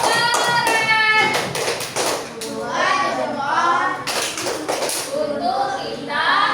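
Children in an Indonesian classroom do a rhythmic clap-and-chant routine together after a group presentation, sharp bursts of hand claps mixed with loud young voices chanting in unison, close and lively throughout.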